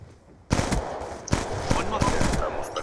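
Burst-fire gunshots in the Black Ops 2 video game on the Hijacked map, with several sharp, loud bursts of rapid shots following a quiet start, under a faint voice.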